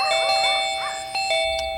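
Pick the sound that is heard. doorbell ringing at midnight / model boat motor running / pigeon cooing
doorbell ringing at midnight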